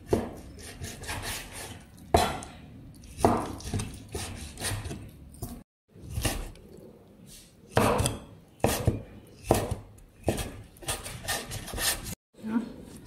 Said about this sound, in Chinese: 瘦肉给它切成片